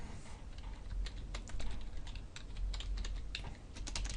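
Someone types on a computer keyboard, producing a quick, irregular patter of close, crisp key clicks over a low background hum, with no one talking.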